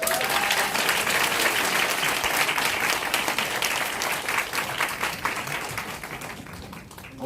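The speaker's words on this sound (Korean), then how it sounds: "큰 박수 부탁드립니다." A seminar audience gives a big round of applause, dense and sustained throughout, easing slightly toward the end, with some speech beneath it.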